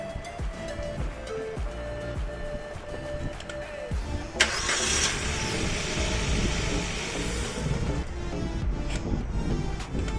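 A Suzuki Baleno with its fuel pump relay removed cranks with a whine of the starter, catches with a sharp burst and runs at a steady idle, close and moderately loud, with no talk.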